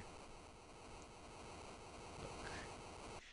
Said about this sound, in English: The pool is fed by a waterfall which spews from a strange rock face.